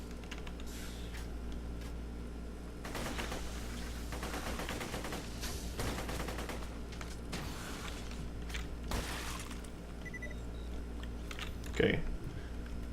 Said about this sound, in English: Who made this gun? I'm not thrilled with this pistol.